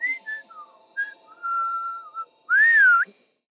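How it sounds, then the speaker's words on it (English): Near and clear, a person whistles a melodic name tune from Kongthong, the whistling village in North East India. It runs as a string of short pitched notes, a long held tone and a final louder warbling phrase, with no talk. "everyone in the village has a whistling name"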